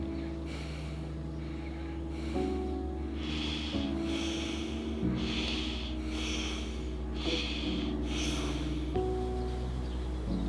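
Deep, rhythmic breathing during a breathwork session: slow, loud breaths repeat steadily over a droning musical background.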